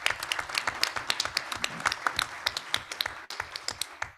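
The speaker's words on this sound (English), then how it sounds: "So let's give them another round of applause." A breakfast audience at a trade-show executive event claps steadily, with a dense patter of many hands at close to medium range that stays lively for the whole stretch.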